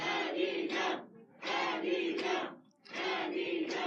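A large crowd at a political rally for An Hee-jung roars in three loud, sustained bursts of shouting and cheering, each separated by a short lull.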